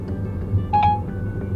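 A brief electronic tone sounds from an iPhone as a voice-dialed call connects, a single short beep over a quiet background hum.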